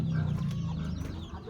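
A few chickens cluck and murmur close by in short, soft bursts, a brief farmyard moment with no talking.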